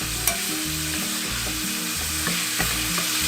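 Ground hamburger meat fries in a hot pan for a bean and vegetable soup, giving a steady close sizzle broken by repeated scraping and chopping strikes of a utensil against the pan.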